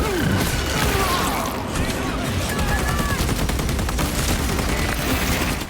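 Loud, relentless gunfire from the Warhammer 40,000 video game Space Marine 2, a dense, continuous rattling barrage with blasts that fills the whole stretch without a break.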